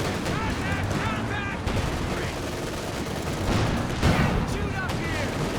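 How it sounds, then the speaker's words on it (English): Anti-tank gun rounds fire during a Company of Heroes 2 battle, with sharp repeated shots and rattling gunfire over a dense backdrop of combat noise, while a voice talks over it. "Rounds, I think, from the AT guns"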